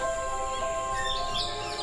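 Birds calling in a Sri Lankan rainforest, high chirps and tweets over a dense, steady layer of insect-like tones and forest ambience, fairly loud throughout this short stretch.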